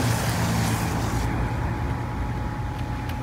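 Porsche 991 Carrera 4S at a supercar sound-check event: a loud, continuous engine roar up close, with the bright upper edge easing off after the first second as the rumble carries on.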